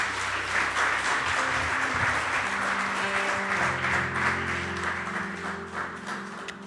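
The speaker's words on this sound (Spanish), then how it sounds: "Denle un fuerte aplauso al Señor." A church congregation gives strong, sustained applause, a dense wash of clapping heard over a steady instrumental tone that continues beneath it.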